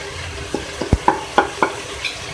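Spices stirred into beef and potato curry in a pot, a series of distinct scraping and clinking strokes over a low sizzle, close up with no talking.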